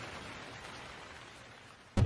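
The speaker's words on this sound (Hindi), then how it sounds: "एक दिन भारी बारिश आने लगी।" Heavy rain falls as a steady, even hiss, ending in a sudden loud thump.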